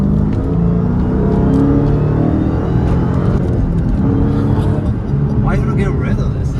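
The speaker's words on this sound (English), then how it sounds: "Yeah, you get some supercharged sound." A supercharged Dodge Hellcat engine drones and revs close by, a deep steady rumble with rising whine, while people talk over it.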